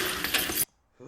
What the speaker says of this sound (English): Jason adds insult to injury by slamming Adrian's frozen face into the countertop and shattering it